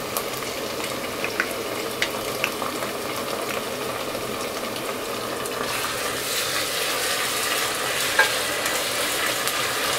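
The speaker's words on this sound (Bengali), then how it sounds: "আদা এবং রসুন বাটাটাকে হালকা একটু ভেজে নিব" Ginger and garlic paste fries lightly over browned onions for a beef head-meat curry, a continuous soft sizzle under repeated spatula scrapes and stirring clatter, close and steady throughout with no talking.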